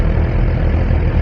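Suzuki GSX-R1000R four-cylinder sport motorcycle engine running in rider mode A with traction control and quick shifter engaged, a steady loud low rumble that holds even and close throughout, with no talk over it.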